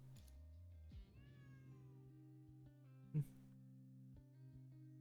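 Cats meow in the video game Honkai Impact, a few rising and falling cries over steady game music, with one sharp tap partway through.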